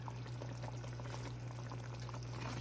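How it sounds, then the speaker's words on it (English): Potatoes tipped into a pot of simmering curry chicken broth give a continuous, fairly loud liquid pouring and splashing wash over a steady low hum, with no talking. "now the potatoes go in"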